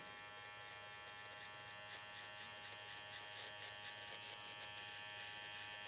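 Electric hair clipper fitted with a guard comb cutting hair during a razor part haircut, giving a steady, faint, continuous buzz with no talk.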